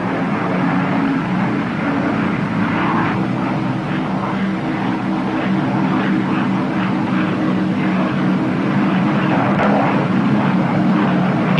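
The engines of a P-61 Black Widow warplane in a 1944 film drone steadily and loudly throughout, a continuous propeller roar with no break.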